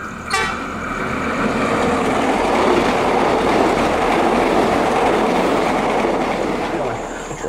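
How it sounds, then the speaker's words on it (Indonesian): A train passes close by on a railway track: a loud, steady rumbling roar with clattering wheels that swells and holds for several seconds, and a brief horn toot near the start. "kita lihat kereta lagi"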